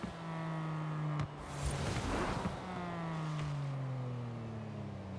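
A Rocket Bunny-kitted 2015 Porsche Cayman GTS with a single-turbo engine revs hard in Forza Horizon 4. Its tone climbs through the gears with brief dips at each shift, loud and steady throughout.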